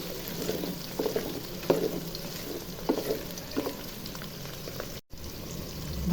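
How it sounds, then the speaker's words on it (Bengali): Bay leaf, cloves, cardamom and cinnamon lightly frying with onion in a pan, a continuous close sizzle broken by soft stirring scrapes and spatters at an uneven rhythm. "হালকা ভেজে নিব।"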